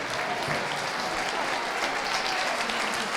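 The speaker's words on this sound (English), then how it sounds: "May I have a round of applause, please?" Steady, dense applause from a crowd at a championship dog show, continuous clapping throughout with no pauses.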